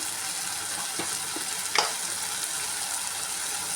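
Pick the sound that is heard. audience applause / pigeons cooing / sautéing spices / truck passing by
sautéing spices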